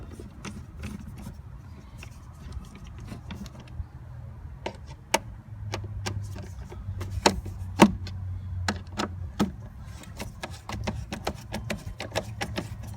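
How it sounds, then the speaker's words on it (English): Screws being removed and the airbox cover lifted off a GMC Yukon, heard as a scattered series of light clicks and taps from hand tools and plastic parts under a low background hum. "So we'll get the 4 screws out and we'll lift off the airbox cover."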